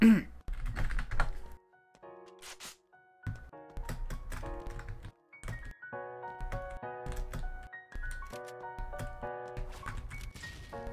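Computer keyboard keys clatter in quick, uneven bursts of typing, fairly close and clear, with short pauses between runs and no talk over them, heard alongside Pixel Strike 3D game play.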